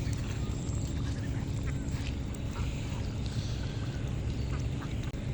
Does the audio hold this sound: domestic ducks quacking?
yes